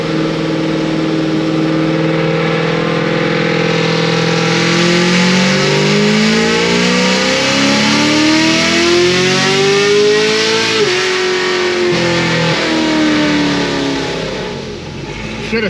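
A Stage 5 Procharged LT1 Camaro with a 10-speed transmission runs a dyno pull, its engine droning loud and close while the pitch climbs steadily through a long held gear with supercharger whine on top, briefly dipping near the end.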